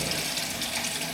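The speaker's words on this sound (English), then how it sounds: "Now we'll fill it up with cold water." A faucet runs steadily, filling with cold water at a sink near a garbage disposal; a close, continuous hiss and splash with no talk.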